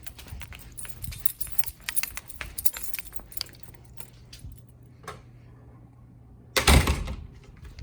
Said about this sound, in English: Door, gotta close door.